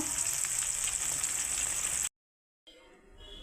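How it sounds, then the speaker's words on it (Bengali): Hilsa fish frying together in a pan of hot oil, a steady dense sizzle heard close up for about two seconds, then a brief silence before the sizzling resumes more faintly. "মাছগুলো একবারেই আমি ভেজে নিচ্ছি সব একসঙ্গেই"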